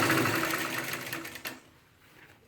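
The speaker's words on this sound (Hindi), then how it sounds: "फिर सिलाई चलाएंगे" A sewing machine stitches the elastic waistband of a Punjabi pajama, its fast, even whirring running steadily for about a second and a half before stopping, leaving near silence.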